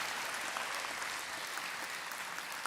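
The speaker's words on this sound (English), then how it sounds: "Yes, that does deserve a round of applause." Audience applause at a graduation ceremony, a dense, steady wash of many hands clapping that fills the whole stretch without letting up.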